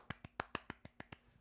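Eight sharp, evenly spaced hand claps from a single person, crisp and close, with no talking around them.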